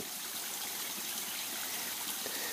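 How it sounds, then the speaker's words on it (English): A mountain stream in steep country flows hard, a dense continuous rushing and trickling of water heard close and unbroken throughout, with no voices. "the stream is flowing harder, so there's water coming from all over the place"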